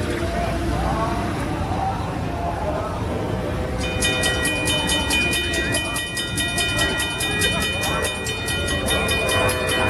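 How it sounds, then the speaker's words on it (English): Amtrak train 92 rumbles loudly past a railroad crossing with mechanical bells, and bright ringing tones join the heavy rolling noise midway through. "we're getting Amtrak train 92, and he's super late"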